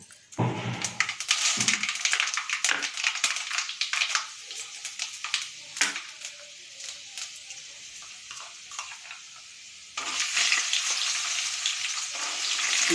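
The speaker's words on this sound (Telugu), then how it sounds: "పప్పులన్నీ వేయించుకోవాలి." Dals for chennangi pachadi fry in a pan with turmeric, garlic, chili and cumin, giving a steady crackling sizzle. The sound is close and moderately loud, eases midway, then surges again near the end, with no talk.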